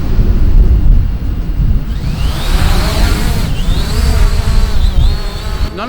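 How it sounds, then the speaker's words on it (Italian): A ZLRC SG906 Beast drone flies in strong wind, giving a buzzing, insect-like propeller whine with pitch that rises and wavers. Heavy wind rumble against the microphone runs loudly beneath it. "Nonostante il vento molto forte, il drone è abbastanza stabile."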